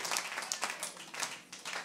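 Faint, steady applause from a church congregation, a soft wash of many hands clapping heard from a distance.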